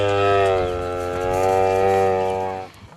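A Fulani herdsmen's cow, from a herd brought from Niger, lets out one long, loud, close moo that holds steady for nearly three seconds before cutting off.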